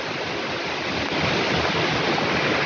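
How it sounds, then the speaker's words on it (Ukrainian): Strong wind roars and buffets steadily against the microphone in a forest, a loud continuous rush with no voices. "Вітруга такі, дивіться, який вітер."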